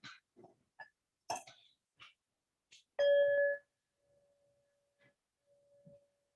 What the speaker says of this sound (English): Now I will invite the bell.